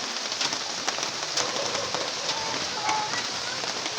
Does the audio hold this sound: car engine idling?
no